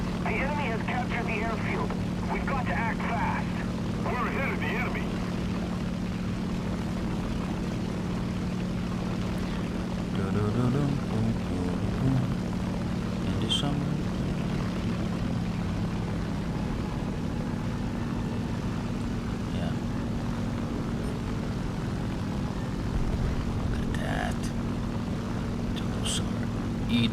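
War Thunder aircraft engines drone steadily for the whole stretch, a constant propeller hum with occasional higher game sounds and bursts, while a voice talks over it.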